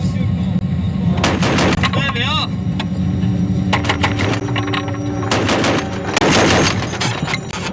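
Gunfire and artillery fire during a firefight in Afghanistan, with sharp repeated loud bangs and bursts in close succession, some near and some echoing, while soldiers talk and shout over it.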